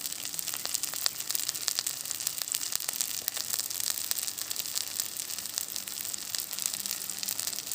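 Fish sizzles and crackles in hot sesame oil over a primitive open cook setup, a dense continuous frying hiss with scattered pops, close and steady throughout.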